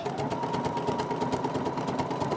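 A BERNINA 46C sewing machine stitches a decorative pattern, giving a fast, steady, even mechanical whirring and clatter at close range, with no talking.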